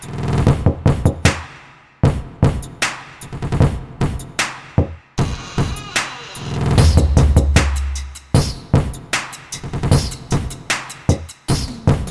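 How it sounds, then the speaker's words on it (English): A door opening sound and percussive beats from an Incredibox Mandela Catalogue mod game play as a run of sharp knock-like hits in an uneven rhythm, with a longer sustained rumbling swell partway through. "I love the door opening sound too."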